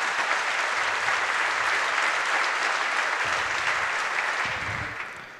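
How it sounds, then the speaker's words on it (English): A conference audience claps warmly for volunteers at a hacker camp event, a dense, steady round of applause from many hands with no talk over it, tapering slightly at the end. "give them a round of applause"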